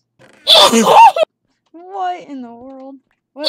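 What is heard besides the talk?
sneeze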